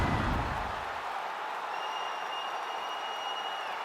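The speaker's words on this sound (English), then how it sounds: "So the crowd voicing its appreciation after that round." A UFC Fight Night arena crowd applauds and cheers at the end of a round, loud at first then settling into a sustained distant roar, with a faint high whine running through it.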